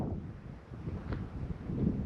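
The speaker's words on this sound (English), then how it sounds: "It does get windy." Low, blustery wind buffeting close, a soft continuous rumble with gusts swelling near the end.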